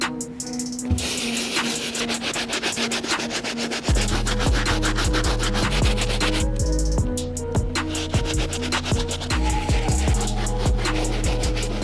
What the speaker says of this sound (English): The first brush we're gonna be using is our stop bristle to start breaking down all the grime on the canvas.